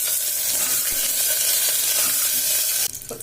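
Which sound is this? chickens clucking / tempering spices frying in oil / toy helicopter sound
tempering spices frying in oil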